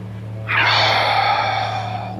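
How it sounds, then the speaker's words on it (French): During a beginner Qi Gong breathing exercise, a single long breath rushes out close to the microphone, a soft airy hiss that swells suddenly and fades slowly over a low steady background hum. "On inspire par le nez, on expire par la bouche."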